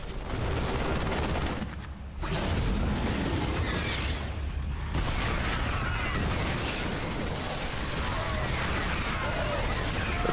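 Battle noise in StarCraft 2 as a Terran siege tank is destroyed in a Terran versus Zerg match, a dense barrage of loud explosive bursts and gunfire with a brief drop near two seconds before the clatter resumes.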